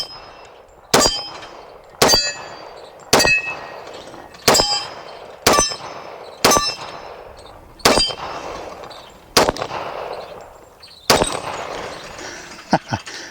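Rounds from an FN FNS40 pistol in .40 S&W strike steel spinner targets, with nine loud, sharp shots each followed by a ringing metallic clang, spaced about a second apart, then a quicker burst of shots near the end.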